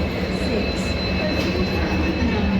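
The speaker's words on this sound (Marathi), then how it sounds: "प्लॅटफॉर्म नंबर 3 वरून WDP-4D डिझेल इंजन जे आहे ते जात आहे" WDP-4D diesel locomotive pulling a train away from platform 3 of an Indian railway station: a steady, loud diesel rumble with wheel and carriage noise and a faint high whine, continuous and close.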